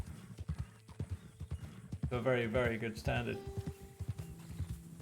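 In Red Dead Online, horse hooves clip-clop in a steady walking rhythm while a horse lets out a loud, wavering whinny midway; someone talks quietly over the start.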